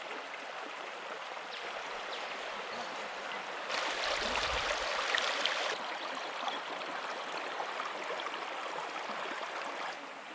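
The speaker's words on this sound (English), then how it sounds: "Go and sit by that little creek" A small creek flows in a steady, broadband rush of running water close by, swelling a little louder partway through, with no voices heard.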